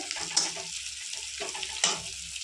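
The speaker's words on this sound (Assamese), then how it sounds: "এইফালে পিঁয়াজ ৰঙা হৈ গৈছে" Onions frying in a pan give a soft, continuous sizzle, broken by two sharp scraping strokes of the stirring spoon about a second and a half apart.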